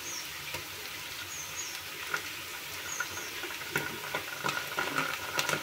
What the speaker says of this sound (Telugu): ఇప్పుడు 1 టేబుల్ స్పూన్ అల్లం పేస్ట్ వేసుకుందాం.